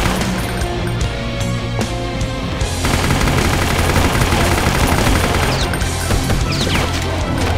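Relentless rapid gunfire from Doom 2 with the Brutal Doom mod, loud and dense throughout, with heavy booming impacts and crunching hits blending into one continuous barrage.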